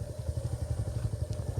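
A Royal Enfield Bullet motorcycle being ridden on a narrow road through grassy fields: a fast, even low thumping engine beat, close and steady, with wind noise over it.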